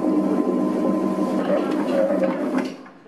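Dough mixing machine kneading bread dough for mini pizzas, a steady mid-range motor drone with a rumbling churn that holds constant for about two and a half seconds before fading as the machine is switched off.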